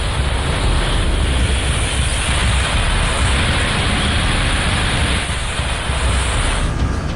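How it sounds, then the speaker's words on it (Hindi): Heavy monsoon rain pours down in Mumbai as a dense, unbroken roar of broadband noise that stays loud and even throughout, with a wind-like rush and no voices. "लगातार बारिश हो रही है"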